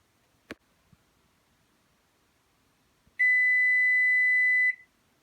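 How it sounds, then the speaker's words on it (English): A kitchen timer set while instant noodles soak sounds one steady electronic beep lasting about a second and a half, clear and close, after a few faint rustles and taps. "So now that our timer is done"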